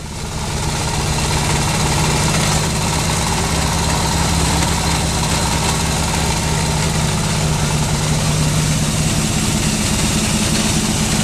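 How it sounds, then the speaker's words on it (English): A hot-rod Harley-Davidson 45 motorcycle engine idles steadily with a low, even rumble that holds constant throughout, close by and loud. "See if I can crank the idle down."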